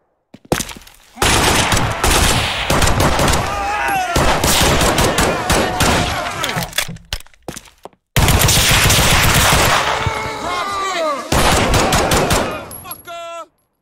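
Rapid automatic gunfire from a Garry's Mod realism roleplay session in a town setting rattles in long, dense bursts with a short silent gap between them. The shooting is loud and close, with a few shouted voices mixed in.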